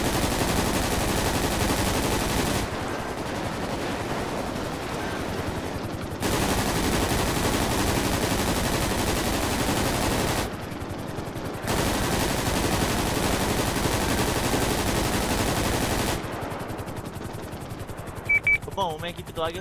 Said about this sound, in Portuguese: Ô, Tur, a gente começou a trocar, receber tiro aqui antes mesmo de ter começado a ação.